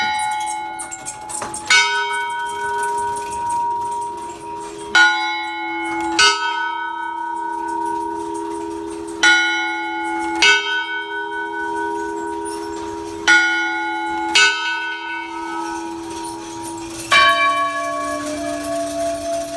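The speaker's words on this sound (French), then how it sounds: "là on va faire sonner 4 heures pour voir ce que ça donne" A Roman clock strikes four o'clock on three bells, each strike a chime across the three bells, with long ringing decays between strikes.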